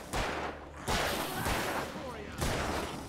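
Gunshots in the Alan Wake video game, three or four loud broadband bursts spaced roughly a second apart, with game ambience continuing between them.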